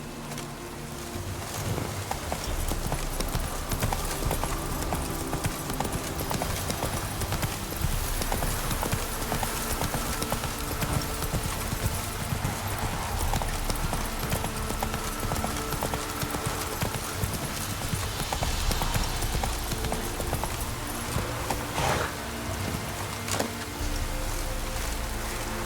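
Roach the horse gallops through The Witcher 3 countryside, a continuous loud clip-clop of hooves running alone over dense game sound and music with no talk.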